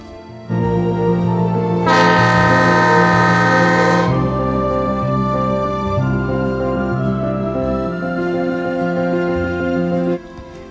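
The Neral–Matheran toy train runs on its narrow-gauge hill railway with a loud, steady tonal engine drone. A brighter horn-like blast rises for about two seconds before the sound cuts off near the end.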